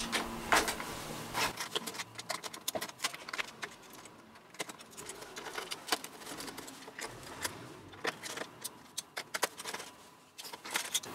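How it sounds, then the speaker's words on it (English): Star screws being unscrewed from the metal shielding inside a Commodore 64C, heard as a steady run of small close metallic clicks, taps and light scrapes with no talking. "So next, I'm gonna unscrew this shielding here."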